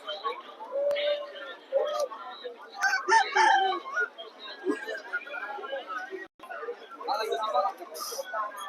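Rooster crowing among other fowl at a rural weekly market, with clucking and chatter in a busy yard, repeated calls rising over the background.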